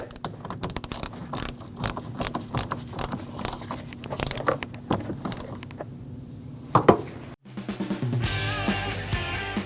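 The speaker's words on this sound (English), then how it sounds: "Install it back on, and tighten that 10mm bolt." A ratchet tightens a 10mm bolt after a fuel pump module is reinstalled on a 2014-2023 Jeep Cherokee, giving quick close metallic clicks in bursts, followed near the end by music.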